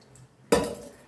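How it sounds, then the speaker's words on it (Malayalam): A metal lid is set onto a cooking pot of jackfruit, giving a single sharp close clink that rings briefly and fades after a quiet start. "ഇത് നമുക്കതിൻ്റെ അടപ്പെടുത്ത് അടച്ച് വേകാനായിട്ട് വെക്കാം."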